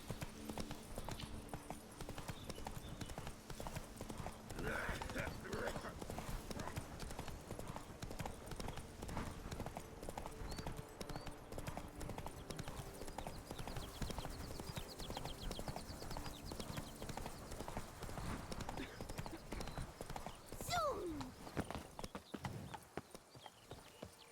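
Hooves of the horse Roach clip-clop steadily through a long stretch of Witcher 3 gameplay, a continuous galloping rhythm under game ambience, with a brief whinny-like sound and a few faint voice fragments near the end.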